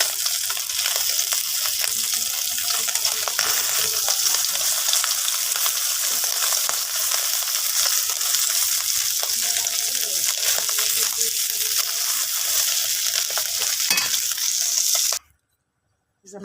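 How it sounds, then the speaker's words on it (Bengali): Small fish fry in a pan of oil with a loud, dense, continuous sizzle close up, cutting off abruptly near the end, with no talking. "এই যে আমার মাছ ভাজি হয়ে গেছে, এখন নামিয়ে নিব।"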